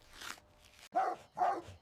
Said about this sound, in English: Dogs barked from behind glass doors, warning him he didn't belong here.